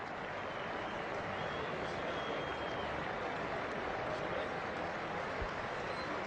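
A crowd at a South Africa versus Australia cricket Test match in Johannesburg claps steadily and densely throughout. The applause is a continuous, even wash of sound.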